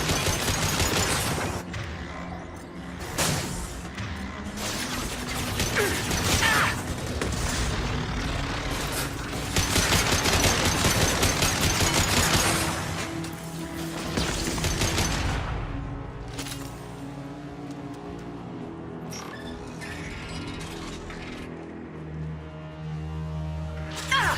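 Heavy sustained gunfire rages through a Mass Effect 2 battle, dense overlapping bursts and mechanical clatter filling the scene at high intensity, thinning briefly near the end before resuming.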